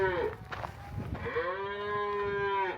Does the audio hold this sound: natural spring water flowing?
no